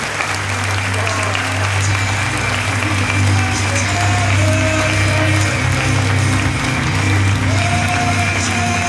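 An audience at an evening stage show applauds steadily for several seconds, a dense, sustained clapping with a faint low hum underneath.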